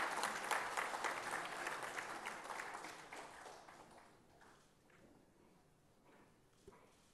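Applause from a seated audience at a formal ceremony honouring a state team led by a Chief Minister, loud at first and fading to a few scattered claps over several seconds.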